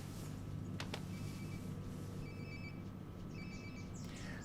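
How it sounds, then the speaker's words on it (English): A telephone rings in the video game Life is Strange: Before the Storm: faint, thin electronic ring bursts repeat over a low steady ambient hum, with no voices. "Пошел звонок"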